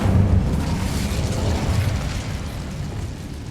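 In the Hogwarts Legacy video game, the Incendio fire spell is cast with a dense, roaring fiery burst that fills the clip at steady loudness and eases slightly toward the end.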